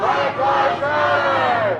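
A protest crowd in the parking lot of the La Mesa Police Department shouts together in loud, sustained chanting voices, close and unbroken.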